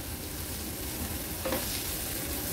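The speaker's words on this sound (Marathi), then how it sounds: "गॅसची फ्लेम मीडियम वर केली आहे आणि कांदा छान शिजवून घ्यायचा आहे" Onion frying in a pan over medium flame with ginger-garlic paste and chopped green chili, a steady close sizzle running throughout with a brief stir near the middle.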